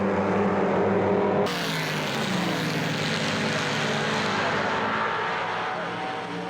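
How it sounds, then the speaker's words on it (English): Stock-block Formula 5000 cars, including a Lola T140, racing at Phillip Island, their loud V8 engines roaring continuously close by as they pass and run in a tight bunch. "Smith tucked up under the heel and gearbox of these stock block Formula 5000s"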